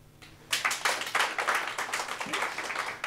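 Audience in a Romanian stand-up comedy show claps for about three seconds, starting after a brief pause, a moderate crowd of separate hand claps, fairly close and steady with no talk over it.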